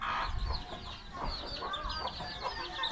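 Ducks call outside, clucking and quacking continuously and fairly close, a busy flock eager to come in at a rural provincial home.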